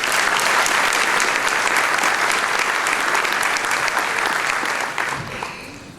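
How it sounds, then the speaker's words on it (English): Loud, dense audience applause at a school award ceremony, steady and sustained for several seconds before tapering off near the end. "Let's give him a round of applause."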